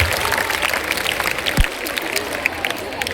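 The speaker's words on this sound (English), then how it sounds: "Let's give a huge round of applause to the performers who entertained us with their amazing talent and spirit." Dense, steady audience applause for performers fills a school Teachers' Day celebration, many hands clapping at once with crowd noise mixed in and no single voice standing out.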